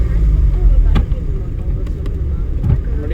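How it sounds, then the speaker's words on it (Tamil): A car engine runs steadily under a driving instructor's voice during a driving lesson, just after a shift into second gear, with a continuous low drone and a slight rise in pitch as the car pulls away. "ஃபுல்லாக கிளச்சு செகண்ட் கியர்."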